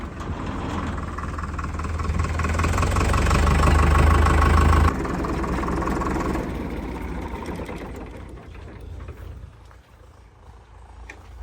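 A heavy tractor engine idles loudly with a trolley hitched behind, then the rumble drops in level and fades to a quieter, uneven chug toward the end.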